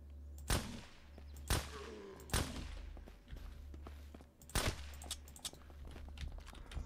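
Sharp gunshots in the zombie survival game SurrounDead, a handful of loud single cracks spaced irregularly over a low ambient hum, close and with no voices.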